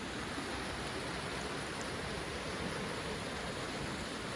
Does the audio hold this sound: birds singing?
no